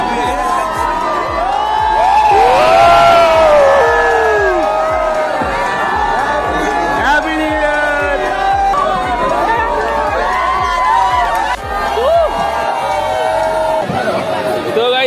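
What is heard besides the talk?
large New Year's Eve crowd cheering at Marine Drive, Mumbai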